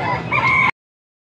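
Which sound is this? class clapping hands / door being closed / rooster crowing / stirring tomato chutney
rooster crowing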